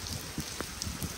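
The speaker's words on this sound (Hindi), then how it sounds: "इतने दिनों से बाद परफेक्ट बारिश" Heavy rain falls steadily as a dense, even hiss, with scattered nearby drops landing on surfaces and no voices over it.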